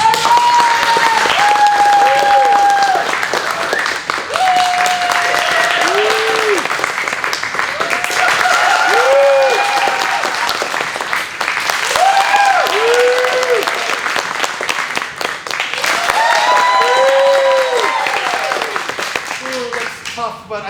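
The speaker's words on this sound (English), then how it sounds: "Round of applause for all of our prizes." An audience at an improv comedy show gives a long round of applause, loud dense clapping over which a host's voice speaks at intervals.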